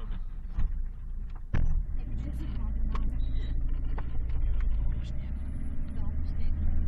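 A taxi drives through Istanbul from Taksim to Eminönü, a steady close cabin rumble of the car in motion, with people talking inside the car throughout.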